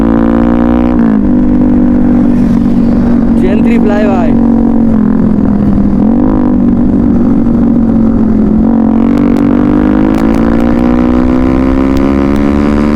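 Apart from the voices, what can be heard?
Yamaha R15 v3 motorcycle engine running after starting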